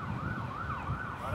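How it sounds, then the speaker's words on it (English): An emergency vehicle siren wails steadily in rising and falling sweeps, fairly loud over low traffic rumble, with no talk over it. "I told you there'd be a siren."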